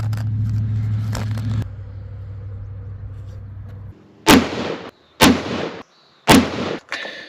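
Three loud, sharp rifle shots from a Christensen Ridgeline at an outdoor range, spaced about a second apart, each with a ringing decay, following a stretch of low mechanical rumble.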